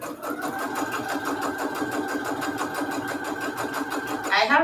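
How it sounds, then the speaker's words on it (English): A home sewing machine stitching fabric Christmas pockets for junk journals, its rapid, even needle chatter running steadily and close up, alone with no talking. "I have been really happy with this sewing machine"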